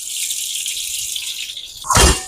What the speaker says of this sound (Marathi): कढईमध्ये तेल टाकून घेऊ.